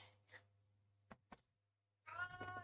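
A house cat meows twice at the start, then after a pair of brief clicks lets out a louder, drawn-out meow near the end, close by and alone over a low hum.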